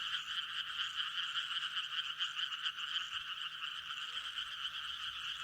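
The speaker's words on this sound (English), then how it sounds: "The lake hosts a significant population of Sardinian tree frogs" Sardinian tree frogs croak at night by a lake in a dense, continuous chorus of rapid rasping calls, steady and moderately distant with no other sounds.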